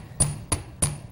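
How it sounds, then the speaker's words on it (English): A hammer strikes the tip of a short length of 14-gauge jewelry wire to flatten it, four sharp, evenly spaced metallic taps, close and alone. "I'm going to take this hammer"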